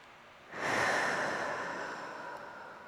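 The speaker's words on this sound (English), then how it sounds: "Just breathing here." A single deep, audible breath during a yoga forward fold, a close, soft rushing inhale-exhale that swells quickly and then slowly fades, alone in a quiet room.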